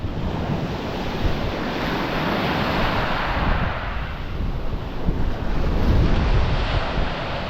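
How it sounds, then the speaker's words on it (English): Strong wind batters the microphone on the seashore during cold, rainy sea fishing, a constant loud roar that runs the whole time with waves and surf blended underneath. "It's so windy, isn't it?"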